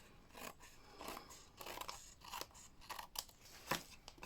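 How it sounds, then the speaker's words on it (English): Scissors trimming the edge of a paper card from behind during papercraft card making: a series of short, crisp snips at an irregular rhythm, fairly quiet and close, with no talking. "I'm just going to trim with my scissors"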